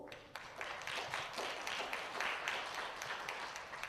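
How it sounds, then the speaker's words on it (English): An audience at a lecture on hip hop breaks into a dense round of clapping, many hands spread through the room, fairly faint and sustained for several seconds. "let's give them a round of applause."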